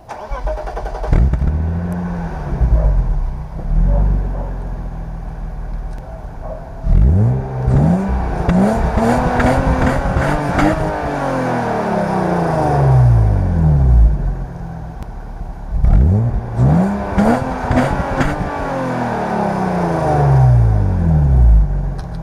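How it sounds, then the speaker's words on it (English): A BMW E36's engine cranks and fires up on a cold start, then revs loudly several times through a performance exhaust with a deep throaty rumble, settling between bursts before revving again. "Let's hear how it just sounds. First cold start."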